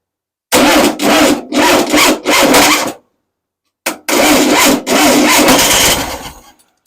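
An engine cranks in long grinding bursts after its fuel pump hoses were swapped, loud and close, with two rhythmic cranking runs separated by a short pause and the second trailing off without settling into a steady idle.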